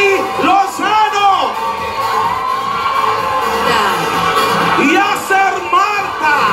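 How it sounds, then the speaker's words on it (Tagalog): A loud live television studio crowd of fans shouts, whoops and cheers for Singing Baes contestants at a grand finals show, with high-pitched voices rising in repeated surges and a host's voice talking over the din. "Parinig nga ng sigawan ng mga fans ni Singing Bass"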